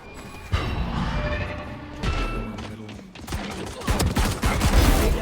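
Gunfire in the shooter game Valorant, a few sharp shots and crashing bursts in quick succession, growing busier toward the end, with a player talking over the action.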